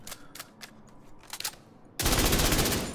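Assault rifle gunfire in The Division 2: a few spaced shots, then a dense loud burst of rapid automatic fire in the last second.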